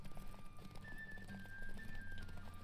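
Galloping horse in a Witcher 3 race, its steady hoofbeats rolling at a fast, even pace against constant low game sound and music throughout.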